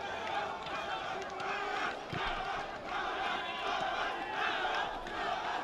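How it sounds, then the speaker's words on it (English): Vanuatu football fans cheer in a stadium at a youth championship match, a dense, steady crowd roar with shouts rising and falling throughout. "the cheering from the Vanuatu fans starts around here at the stadium"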